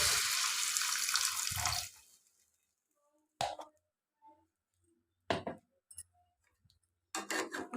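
Water poured into a pan of desi-style prawn curry, a loud continuous splashing pour for about two seconds, then quiet with a few short clinks and bubbling bursts.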